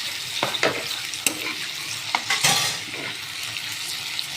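Red amaranth greens stir-fried with garlic in a pan, a lively sizzle broken by repeated scraping strokes of a spatula, close and fairly loud with no voices.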